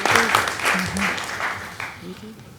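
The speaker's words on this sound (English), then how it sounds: "Can we give a round of applause to the police department, please?" Applause for the police department at a city council meeting: a moderate burst of clapping with voices talking over it, tapering off as it goes.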